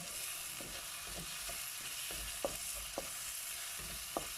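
Garlic and shallots frying in a pan: a steady, even sizzle with a few sharp utensil clicks from stirring, and no voices.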